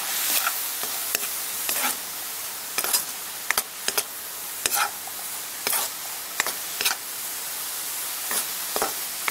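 Bird's eye chilies dry-roasting in a pan for Thai fish chili paste, with a steady faint sizzle and repeated sharp scraping stirs at an irregular rhythm, close by with no talk.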